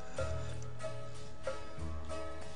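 A slowed-down sample in a trap beat built in FL Studio plays as a dense, continuous musical loop with a low sustained bass line and recurring brighter tonal accents, steady and moderately loud with no voices.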